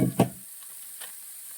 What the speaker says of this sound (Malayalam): നന്നായിട്ട് നമുക്കൊന്ന് വഴറ്റാം